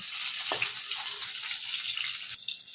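Pointed gourd (potol) frying in hot oil in a pan, a steady close hiss and sizzle with a brief crackle partway through, no talking.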